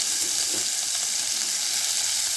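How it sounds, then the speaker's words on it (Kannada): Finely chopped onion hits hot oil for an onion-tomato saaru, giving a steady, loud, hissing sizzle that stays even throughout, with a faint stirring scrape near the start and no talking. "ಇದಕ್ಕೆ ನಾನೀಗ ಸಣ್ಣದಾಗಿ ಹೆಚ್ಚಿಟ್ಕೊಂಡು ಈರುಳ್ಳಿ ಹಾಕ್ತಾಯಿದ್ದೀನಿ."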